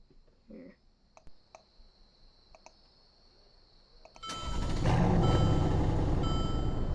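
Startup of a 2015 Stuttgart Van 63 sport van in a video game: a few clicks and beeps, then the engine cranks and catches into a loud, steady rumble that holds to the end.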